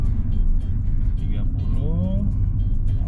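A used Toyota Yaris TRD hatchback drives during a road test, its low engine rumble and road noise steady from inside the cabin while occupants talk over it.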